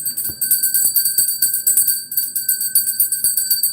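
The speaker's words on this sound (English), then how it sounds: "Let's get that bell going." A bell is rung over and over in a quick, steady rhythm, each strike leaving a bright sustained ring that carries into the next. It sounds close and fairly loud, with no talking.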